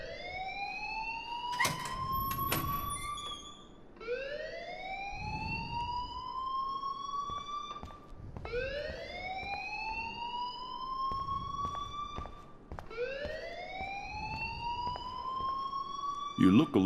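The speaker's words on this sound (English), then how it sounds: "please turn off that alarm since that's your job" A school alarm in the video game Life Is Strange rings in four rising, whooping siren sweeps repeating every four seconds, steady and moderately loud, with brief sharp clicks between.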